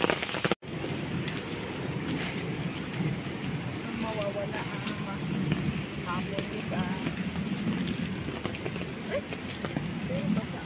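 Steady rain falls on a wooded hiking trail near Tai Tam Reservoir in Hong Kong, a constant close hiss and patter with occasional faint bird chirps in the background.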